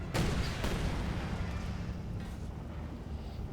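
A Stuka rocket artillery barrage in Company of Heroes 2, a heavy booming launch followed by a second blast, then a long rumbling roar that slowly fades, loud and close with no talk.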